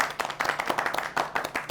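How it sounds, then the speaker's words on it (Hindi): Several people clapping together in a brief burst of applause after a discussion, close and fairly loud, lasting under two seconds. "तालियां"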